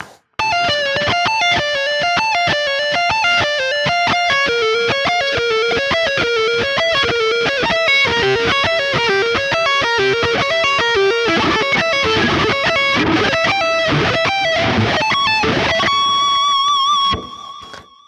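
An electric guitar plays dark, slow sweep-picked arpeggios with distortion, a continuous stream of rapidly rising and falling notes that builds in density, ending on a held note with whammy-bar vibrato before cutting off.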